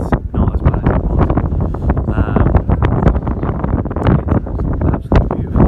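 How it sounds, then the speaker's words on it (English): Strong gusting wind buffets the microphone throughout in the Hebrides, a loud continuous rumble with rustling bursts and no clear talk. "it's still a bit windy"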